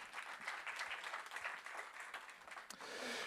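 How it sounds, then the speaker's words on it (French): An audience applauds the organizers at a French church gathering, a dense, steady wash of clapping lasting the whole stretch without speech over it. "Vous pouvez applaudir les animateurs."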